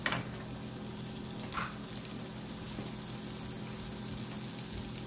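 Banana pepper and poblano quarters sizzle softly in melted butter in a pan, a steady low frying hiss with no voices, a brief faint scrape partway through.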